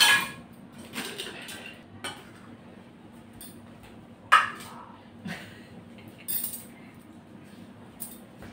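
Rice is served onto a plate, heard as scattered clinks and taps of a spoon against the plate, spaced apart over a quiet room background.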